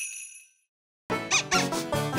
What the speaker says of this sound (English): Squeak!